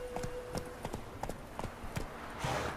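Roach, the horse in The Witcher 3, trots with quick, regular hoof clip-clops at moderate distance, fairly faint and unbroken.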